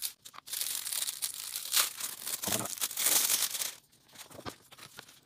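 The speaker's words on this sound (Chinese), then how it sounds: "我们把包装给拆开" Victas V20 table tennis rubber packaging is torn open and crinkled by hand, close and fairly quiet, with bursts of tearing and rustling plastic separated by short pauses.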